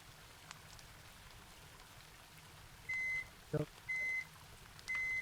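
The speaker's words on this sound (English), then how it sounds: "There was a beep." Three short electronic beeps at steady intervals, with a brief soft thud between the first two, over a faint hiss of background noise.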